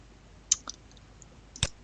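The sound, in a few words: mouse clicking in software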